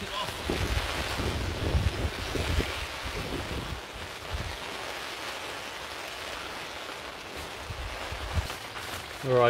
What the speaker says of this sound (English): That wind's pretty violent